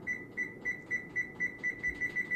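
Kitchen oven timer being set for baking cookies, giving a steady train of about ten short, even electronic beeps, clear over a soft room hum.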